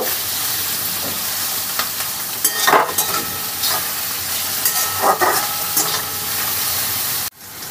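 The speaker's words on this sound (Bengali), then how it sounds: "আর একটু ভেজে নেব।" Mushrooms fry over medium flame in a pan, giving a steady loud sizzle and hiss, with occasional scraping stirs in the middle stretch before the sound cuts off abruptly near the end.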